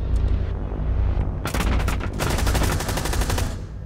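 Gunfire in Rainbow Six Siege aimed through a bed headboard: a loud, close burst of rapid automatic shots, a brief pause, then another sustained volley.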